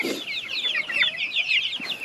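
Chicks and three-month-old chickens cheep and cluck busily in a backyard coop, a dense run of high, overlapping peeps close by, with a low cluck near the start and no one talking.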